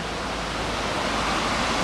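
Waterfalls of Valle Tegna on the river La Foce, a steady, dense roar of rushing, falling water close by, continuous and broadband with no pauses.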